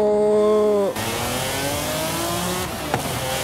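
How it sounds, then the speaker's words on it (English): Loud high-revving naturally aspirated V12 car engine in Forza Horizon 5 winding up, then dropping sharply as it shifts and climbs again, with a brief pop near the end. "The sound of a naturally aspirated V12, man, that sounds so good"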